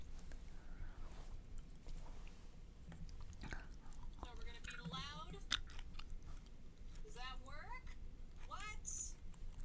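Someone chews raw carrots close to a microphone, a series of wet, crunchy bites and mouth noises under soft, intermittent talk.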